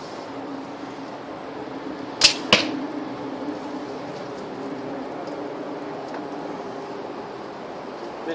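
A slingbow looses an arrow outdoors: two sharp close snaps about a quarter second apart stand out against a steady background hiss, with the rest of the stretch quiet and even.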